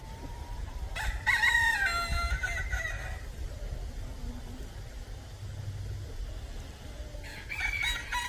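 Chickens and turkeys on a farm make bursts of clucking and crowing-like calls, with a loud call cluster early, quieter scratching ambience in the middle, and another call near the end, over steady low outdoor rumble.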